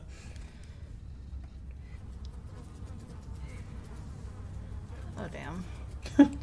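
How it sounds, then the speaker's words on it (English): Flies buzzing around an empty town in The Walking Dead video game, a faint low drone hanging steadily under quiet ambience, with a brief louder burst of noise near the end. "It's a lot of flies buzzing around."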